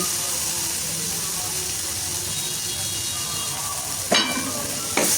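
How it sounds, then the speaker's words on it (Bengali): Taro and prawns cook in a pan with lemon juice, giving a steady close sizzling hiss throughout, broken near the end by two short scraping stirs of the utensil. "লেবুর রসটা দিয়ে খুব ভালোভাবে নাড়াচাড়া করে বেশ কিছুক্ষণ আবার রান্না করে নিচ্ছি"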